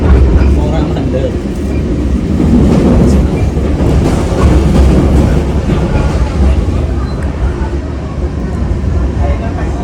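A train runs on the Brumbung–Gundih–Gambringan triangle line with a close, loud rolling rumble and clickety-clack rattle that holds steady throughout, heard from on board.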